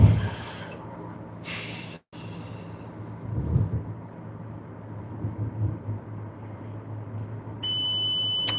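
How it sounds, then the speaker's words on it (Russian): A car's low-coolant warning chime sounds as a steady electronic tone near the end, heard inside the cabin over road rumble on a road trip through Poland. "опять пищит, напоминает о себе этот тосол"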